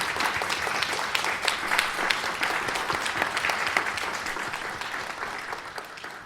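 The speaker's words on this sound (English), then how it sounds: "Can we please give them another round of applause?" An audience at a book festival applauds steadily for several seconds, a dense, even patter of many hands that fades slightly at the end.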